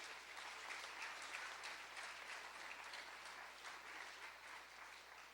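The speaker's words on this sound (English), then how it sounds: "So I'd like to give a round of applause to the girls for all their efforts and their spirits." Faint, distant applause from a group at a sports club awards event, steady and even for several seconds without a clear break.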